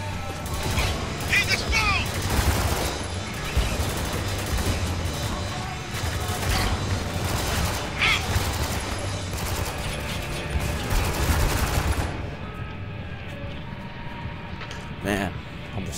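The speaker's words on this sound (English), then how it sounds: "We're getting sniped." Sniper gunfire in the Spec Ops: The Line video game, sharp shots cracking amid dense, continuous combat noise and low rumble, with a quieter stretch near the end.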